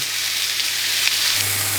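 Burger patties sizzling and frying on a hot grill pan, a steady dense hiss of crackling fat, close and continuous with no talking.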